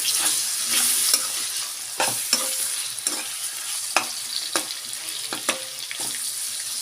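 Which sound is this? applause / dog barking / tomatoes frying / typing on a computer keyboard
tomatoes frying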